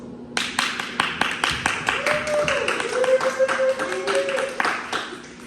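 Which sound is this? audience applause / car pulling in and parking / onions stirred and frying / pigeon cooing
audience applause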